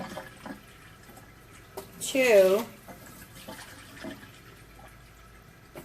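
Water for a pot of rice is poured in one short burst, a rising gurgling splash about half a second long, with a voice speaking around it.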